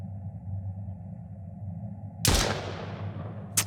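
A single loud gunshot fires in the survival game Mist Survival during a base defense against a horde, a sharp crack with a decaying tail over a low steady hum, then a second brief shot right at the end.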